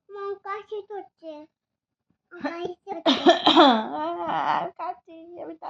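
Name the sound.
child coughing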